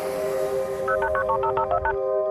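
Touch-tone telephone dialing: a quick series of about eight DTMF beeps rising over a steady dial tone, crisp and close, with no voices.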